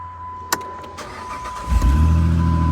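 Jeep Liberty engine cranking after a couple of clicks, then catching and settling into a loud, steady idle close by.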